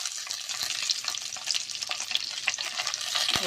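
Ginger and garlic fry in a hot pan, a dense, steady sizzle close up with faint scraping as they are stirred, and no voices.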